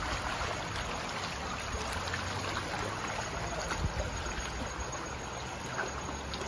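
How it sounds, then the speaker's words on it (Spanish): Floodwater rushing down a street like a river, a constant broadband roar of flowing water, steady and moderately loud with no talk over it. "esto es un río totalmente"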